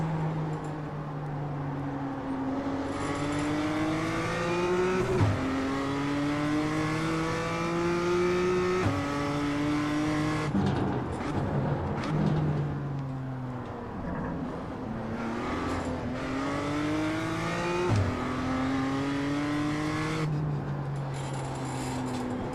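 BMW M2 race cars lapping Tsukuba in the video game iRacing, a loud close engine revving up through the gears with repeated upshifts and downshifts, steady racing drone throughout and no talk.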